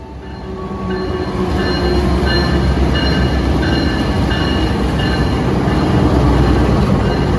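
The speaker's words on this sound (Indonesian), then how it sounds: "kita juga memang menunggu bersilang masuknya kereta api Turangga ke stasiun Ciamis" Turangga passenger train rolling into Ciamis station, a loud, close, continuous rumble of wheels and carriages that swells in the first second and then holds steady, with faint squealing tones running above it.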